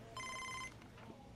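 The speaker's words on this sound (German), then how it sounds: "Telefon." A single short electronic telephone ring in the baseball video game MLB The Show 24, one bright tonal burst over quiet background.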